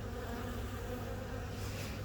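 Honey bees buzz in a dense, continuous drone while a colony is transferred, the swarm sounding close and steady throughout, with no speech.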